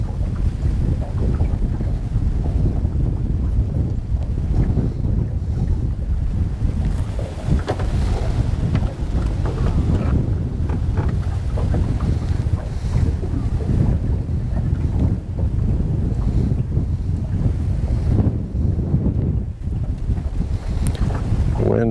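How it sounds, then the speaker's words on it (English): Strong wind buffets a small fishing boat on open water in a southerly breeze, a steady loud roar of gusts and microphone rumble with waves slapping underneath, no talking. "wind is right out of the south and it's blowing me straight down like."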